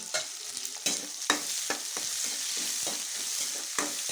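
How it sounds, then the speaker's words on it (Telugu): Moringa leaves fried with onions in a village-style pan, stirred repeatedly so a steady sizzle runs under sharp scraping strokes of the spoon, close and fairly loud with no talking. "వేసినాక కలుపుకుందాం ఇవి కొద్దిసేపు వేగనిద్దాము"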